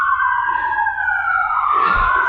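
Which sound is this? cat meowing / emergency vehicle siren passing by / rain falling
emergency vehicle siren passing by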